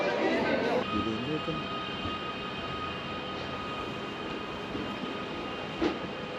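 The Glacier Express train rumbles at a station with a continuous mechanical drone and a brief clank near the end, while people talk nearby.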